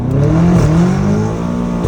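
A catless BMW M5 Competition engine revs hard, its loud raspy exhaust note climbing and holding, close and steady for a couple of seconds with no talking.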